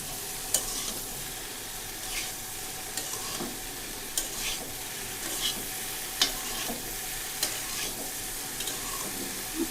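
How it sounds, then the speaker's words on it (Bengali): Vegetables sauté in a hot pan for a vegetarian dish, with a steady sizzle and frequent scraping knocks from a stirring spoon. No one speaks. "এখন হচ্ছে এটাকে সুন্দর করে কষিয়ে নিতে হবে"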